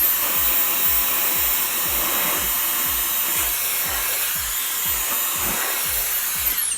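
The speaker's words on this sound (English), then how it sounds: "Use the blower." A hot-air blower runs steadily during an iPad Pro 12.9-inch third-generation screen replacement, a loud continuous broadband whoosh with faint low rhythmic pulsing underneath, no talking.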